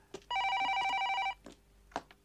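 A telephone bell rings in a single sustained burst of about a second, clear and fairly close, with faint room noise and small knocks around it and no talk.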